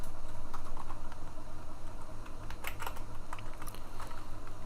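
Rapid keystrokes clatter on a computer keyboard while a trace is written in Prolog, with steady close clicks and taps across the whole stretch and no talking.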